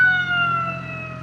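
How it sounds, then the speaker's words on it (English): An ambulance siren sounding in traffic, heard near a commuter riding a 600cc sport bike: a loud, steady tonal wail that dominates briefly and then begins to fade, with no talking. "We got an ambulance coming up."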